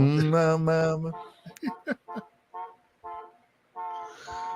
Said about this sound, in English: Who's honking wildly?